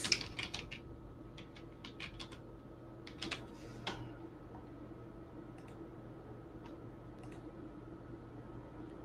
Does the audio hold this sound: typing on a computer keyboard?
yes